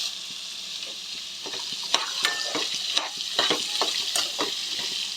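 Cut beetroot pieces sizzle steadily in a pan with hot tempering, while a spoon scrapes and stirs through them in a quick, irregular rhythm, close and alone without voices.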